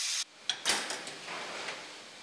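The door of a rice cooking machine swinging open with a short clunk and rattling knocks, followed by a soft airy rush, quiet and close.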